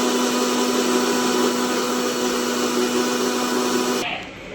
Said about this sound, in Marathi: पुन्हा मिक्सरला बारीक करून घ्यायचं, फिरवून घ्यायचं त्याला.